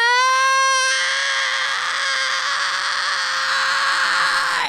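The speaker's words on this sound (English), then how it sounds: "Now, this is called a mixed voice fry scream." A sustained, raspy vocal fry scream, starting with a brief clean tone and turning into a gritty, distorted wail held for several seconds.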